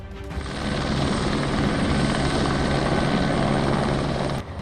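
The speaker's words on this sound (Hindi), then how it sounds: "जो हेलीकॉप्टर की मदद से रेस्क्यू ऑपरेशन चला रही है" An army rescue helicopter flies over a flood and landslide disaster zone in Nepal, its rotor and engine giving a loud, steady, close roar that holds for the whole stretch before easing slightly at the very end.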